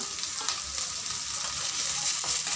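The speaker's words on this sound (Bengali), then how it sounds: "ক্যাপসিকাম কুচি দিয়ে মিনিট খানিক নাড়াচাড়া করার পর তাতে দিয়ে দেবো হলুদ গুঁড়ো" Chopped capsicum fries and sizzles steadily in a pan, with turmeric added, under a continuous bright hiss and the soft scrapes of stirring, close and moderately loud throughout.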